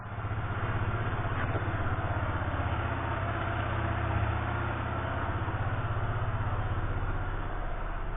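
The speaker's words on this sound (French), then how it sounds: "comme tu l'entends, la moto tourne toujours" A Yamaha XTZ Ténéré motorcycle engine idling steadily with a low, even throbbing rumble that carries on without a break.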